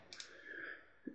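A computer mouse clicks while someone works in Photoshop: a quick pair of light clicks near the start and another soft click a moment later, close and quiet.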